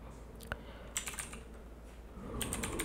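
Keys clack in short irregular bursts on a computer keyboard while a macro name is entered, close and alone.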